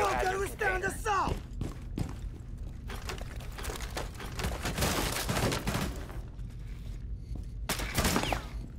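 Video game gunfire crackles in repeated bursts and scattered sharp shots over a low background drone, loud and close, mixed with people talking between the volleys.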